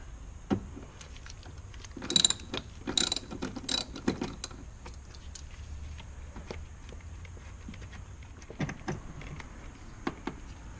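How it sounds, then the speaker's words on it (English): Ratchet clicks loosening the mounting nut for the AC charging port on a BMW E46 330i/325i, in short irregular bursts of quick metallic ticks, close and fairly quiet, with pauses between. "now we are to release this mounting nut for the charging port to the AC"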